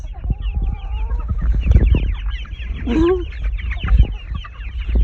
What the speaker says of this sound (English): And there's another cochin right there.